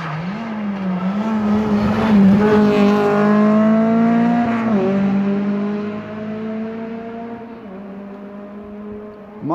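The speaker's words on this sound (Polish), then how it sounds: "Marcin Pietrzyk też tutaj ostre hamowanie, też tutaj pokazał nam dym z kół" A rally car at the 47th Rajd Świdnicki-Krause brakes hard with smoking tyres, its engine droning loud and close before dropping away, with a squealing, shifting pitch through the braking and a quieter idle toward the end.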